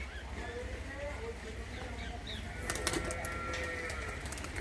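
A pigeon coos softly amid background chatter and outdoor noise, with a few sharp clicks and flutters later on.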